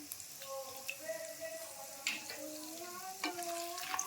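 Dried red chillies fry in a pan with a soft, steady sizzle, punctuated by the occasional scrape and clink of a spatula stirring them, quiet and close.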